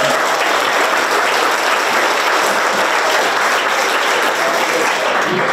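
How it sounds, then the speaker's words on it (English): Dense, steady applause fills the room at a county chamber of commerce awards dinner and auction held at a country club, loud and continuous throughout with no voices on top. "Should give them a round of applause."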